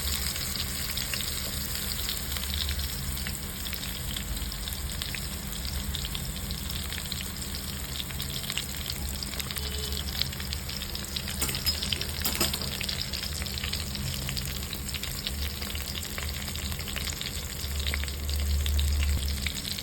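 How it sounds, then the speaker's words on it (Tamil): Masala-coated brinjal sautéing in hot oil, a dense, steady crackling sizzle close up that holds evenly throughout with faint occasional stirring. "எண்ணெய் சூடு ஏறின பிறகு நம்ம மசாலா போட்டு வச்சுருக்க கத்திரிக்காயை இதில் சேர்த்துட்டு லைட்டாக வதக்க போகிறோம்"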